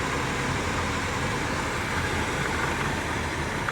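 1977 Ford Camper Special engine idling with a fuel issue, a steady dense rumble throughout, close and moderately loud with no break.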